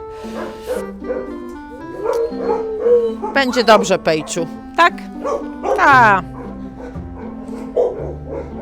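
Dogs at an animal shelter yip and bark in short bursts close by, with someone talking softly over them throughout.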